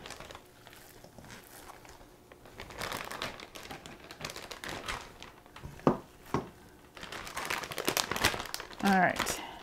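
Plastic zip bag crinkling and rustling in bursts as meat is put in, close by, with some handling noises and a brief voice near the end.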